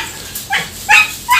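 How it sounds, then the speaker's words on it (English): Dogs yip and bark at home near a kitchen, three short sharp high-pitched outbursts in quick succession, loud and close. "Sorry sa ingay and my dogs are here."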